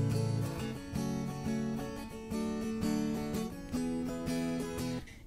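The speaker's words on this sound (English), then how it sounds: "The first way would be strumming it just like your original strumming pattern, so it would sound like this." Acoustic guitar strums chords in a steady, flowing strumming pattern, close and moderately quiet, with chord changes about every second and no talking.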